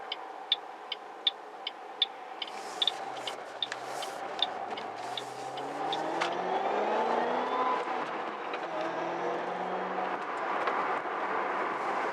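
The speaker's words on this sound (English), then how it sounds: "You can hear the supercharger really spin up." A supercharged 2008 Ford Mustang Shelby GT500 engine revs up with a rising supercharger whine climbing in pitch, preceded by a series of sharp ticking clicks.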